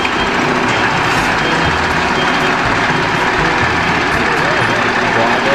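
A toy truck gives off reversing beeps amid loud, constant background noise, with a child-directed voice talking over it throughout.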